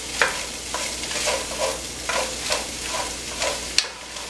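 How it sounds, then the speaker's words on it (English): Chopped onions and celery brown in a pot while being stirred, a steady sizzle with repeated scraping stir strokes and a sharp clink near the end, no talking. "And I'm gonna start browning process on the vegetables."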